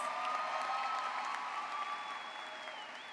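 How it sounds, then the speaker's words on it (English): An audience at a high school graduation applauds faculty and staff, a fairly faint, steady wash of clapping that slowly fades over a few seconds. "Let's give these professionals a well-deserved round of applause."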